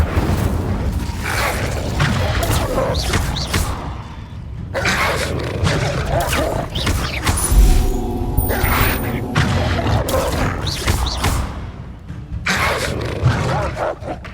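A fire spell is cast in the Hogwarts Legacy video game, giving loud bursts of booming, roaring game effects over a dense, continuous soundscape with a brief break in the middle.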